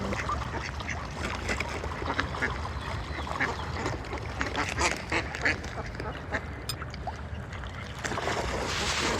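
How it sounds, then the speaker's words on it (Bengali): Ducks on a canal in the Netherlands give scattered quacks at a moderate distance over a constant wash of outdoor water and ambient noise. "কানালের জলে আপনি এরম হাঁস দেখতে পাবেন"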